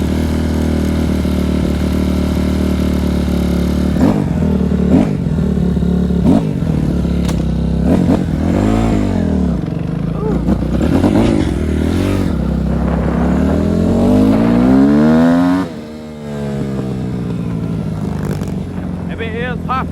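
A Kawasaki KX250F dirt bike with a carburetor being diagnosed runs loud and close while warming up, its idle broken by repeated sharp throttle blips that rise and fall, with a voice talking over it.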